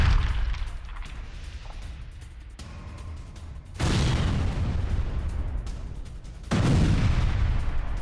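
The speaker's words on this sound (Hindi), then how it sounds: "इजराइल ने टैंक से गोले बरसाए हैं" Explosions from Israeli tank shelling and a helicopter rocket strike boom heavily, with two loud, low blasts that each rumble on at length over a continuous noisy background.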